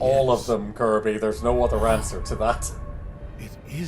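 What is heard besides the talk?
No distinct noise like a dog, phone or traffic.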